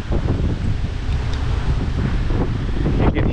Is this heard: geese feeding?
no